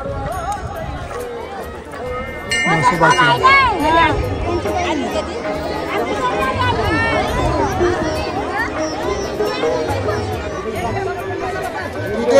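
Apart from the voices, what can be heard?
large night-time crowd at a temple festival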